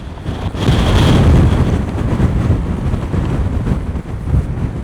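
Heavy wind buffets the microphone in a steady low roar on a windy coast in the Faroe Islands, with the wash of surf faintly beneath; no voices.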